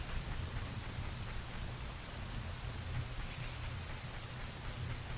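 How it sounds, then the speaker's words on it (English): Continuous steady video game rainfall in The Legend of Zelda: Ocarina of Time, a dense hiss of drops with a low rumble underneath, no voices. "It's raining."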